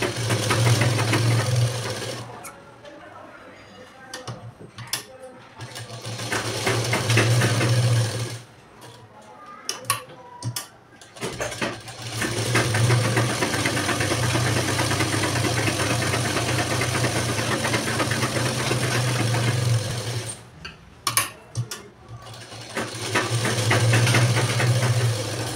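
Sewing machine running in bursts while stitching the lining into a blouse, a steady mechanical whir and rapid needle clatter that stops twice for short pauses.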